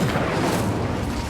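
An Incendio fire spell cast in Hogwarts Legacy: a short, dense whooshing roar of flame, loud and continuous for about a second.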